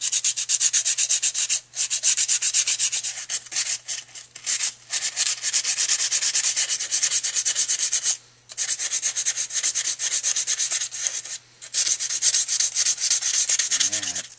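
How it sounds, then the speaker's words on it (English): Continuous back-and-forth rasping of sandpaper on a wooden pistol grip, sanded with the grain, in rhythmic strokes with a few short pauses. "start sanding with the grain of the wood"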